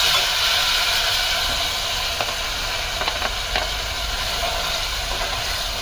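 Tomato puree added to a pan of hot oil with curry leaves, giving a steady, dense sizzle and hiss with occasional stirring clinks, for a no-onion, no-garlic chole gravy.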